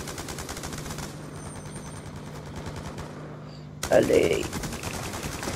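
MK48 machine gun firing in a video game, a steady rapid stream of shots under a constant low hum, ending in a louder burst. A voice speaks briefly.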